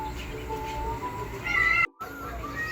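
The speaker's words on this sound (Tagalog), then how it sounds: "Ingay-ingay pa ng pusa dito malapit sa akin." A cat meows nearby, a few loud drawn-out cries in quick succession outdoors during a spider hunt, with a brief dropout near the end.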